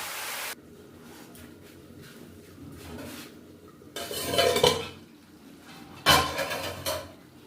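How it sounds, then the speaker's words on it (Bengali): Chicken curry being stirred and sautéed in a pot, with metal utensil scrapes and clanks against the pan in two louder bursts over a quieter low bed of sound, no voices. "মিনিট দশেক ধরে এটা কষে নেবো এমন কষবো যেন সেদ্ধ হয়ে যায়"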